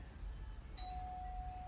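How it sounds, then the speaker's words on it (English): A single bell rings once at mid-clip, a clear bright tone that lingers as a faint sustained ring over quiet room hiss, with no voices. "that was the bell again"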